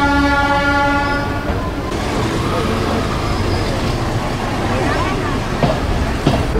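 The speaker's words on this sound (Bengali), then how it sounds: "অলরেডি আমাদের লোকাল ট্রেন চলে এসেছে, এটার মাধ্যমে যাব আমরা খোকসা ইউটিউব ভিলেজে।" Crowded local passenger train at Jagati station near Kushtia, Bangladesh: a long sustained horn blast opens, then the rolling rumble and clatter of the carriages continues under a busy station hubbub with voices.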